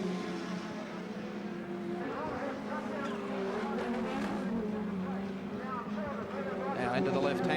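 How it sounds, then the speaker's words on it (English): Touring cars racing at the Lakeside circuit in 1989, engines droning steadily at mid distance beneath continuous race commentary. "Now we'll see whether Longhurst can pull away from Peter Perfect as they come down beneath the bridge on the run to Hungary Corner."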